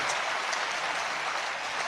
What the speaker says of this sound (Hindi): बजाओ ताली बजाओ जरा यार जोरदार